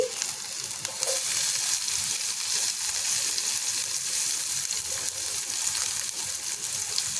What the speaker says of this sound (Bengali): এর মধ্যে দিয়ে দিচ্ছি রসুন কুচি, দিয়ে দিচ্ছি পেঁয়াজ কুচি